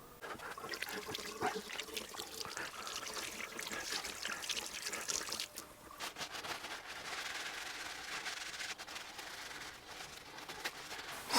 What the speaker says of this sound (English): I clean them under water.